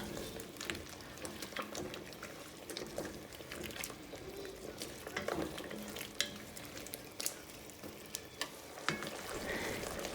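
Sugar stirred around in a hot pot while making beef noodle soup, a soft, steady sizzle with scraping and clinking stir strokes, close but quiet, with no talking.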